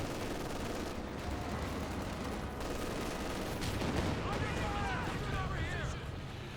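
Incendiary rounds firing in a Company of Heroes 2 battle come through as a steady, distant rumble of overlapping shots and blasts, faint and continuous beneath a commentator talking.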